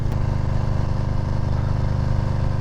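A Harley-Davidson Softail motorcycle engine idles close by, a loud, steady low rumble with an even pulsing throb and no talk over it.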